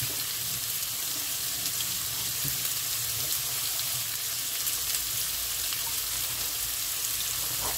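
Water runs steadily from a kitchen tap as a bowl is rinsed in the sink, a continuous even splashing that holds throughout, with no talking.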